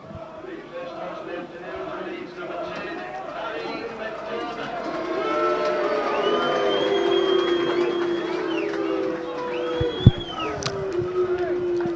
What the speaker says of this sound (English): So some unsporting booing going on there by the Town faithful below us